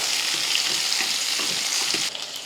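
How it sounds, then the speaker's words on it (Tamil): Onions and garlic sautéing in a pan for chutney give a steady, close, loud sizzle with a few soft stirring scrapes, then the hiss drops slightly near the end. "சேர்த்து வெங்காயம் லைட்டாக வதங்கட்டும்."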